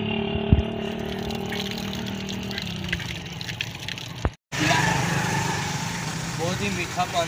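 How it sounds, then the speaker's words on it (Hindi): Water pours steadily from a village supply pump, splashing under a voice. It breaks off briefly midway, then a rushing flow returns with more talk. "पानी पूरा आ रहा है, पानी पूरा आ रहा है भाई।"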